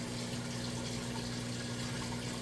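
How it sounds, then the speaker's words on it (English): Maytag washing machine draining after the wash cycle, a steady low pump hum with constant rushing water running on evenly and close by, no voices. "You can hear it running that drain."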